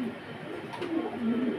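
Pigeons in a loft give a soft, low, brief cooing, faint and close, lasting under two seconds.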